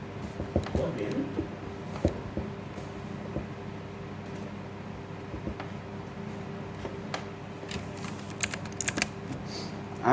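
Rapid clicking keystrokes on a computer keyboard by a 2006 Dell Dimension 1100 desktop, irregular taps over a steady fan hum, with some scattered louder clacks toward the end.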